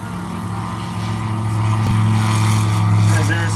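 A small bush plane at an Alaskan bush-flying event revving and taking off, its propeller engine droning steadily and growing slightly louder, with faint background voices.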